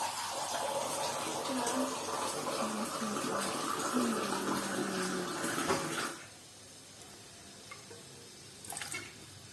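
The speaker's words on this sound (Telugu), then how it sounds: "ఇంకా ఒక గ్లాస్ రవ్వకు 3 గ్లాసులు వాటర్ తీసుకుంటానండి." Water is poured into a pot for rava kesari as a steady splashing pour for about six seconds, then stops, leaving a quiet kitchen with a few faint knocks.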